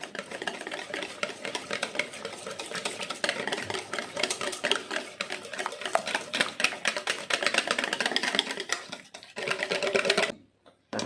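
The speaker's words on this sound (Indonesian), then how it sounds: "Oke, kita aduk lagi di sini." Cheesecake batter is stirred by hand in a bowl, with a busy, steady scraping and clicking of the utensil that continues for several seconds, briefly stops, then resumes.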